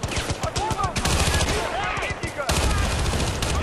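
Machine gun fire in Battlefield: Bad Company 2 rattles in rapid bursts, loud and close, among other gunshots and battle noise.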